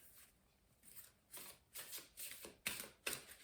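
Soft riffling bursts of Lenormand oracle cards being shuffled by hand, about seven quick rhythmic flicks spaced roughly half a second apart, close and fairly quiet with no talking.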